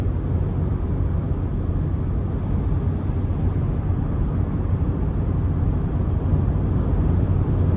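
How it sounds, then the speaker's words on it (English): Steady, broad low rumble of wind and road noise inside the cab of a used Ford F-150 pickup with about 90,000 miles, driving down the road at a constant, moderately loud level with no voices. "even where I can hear the wind, it's not overly loud in here"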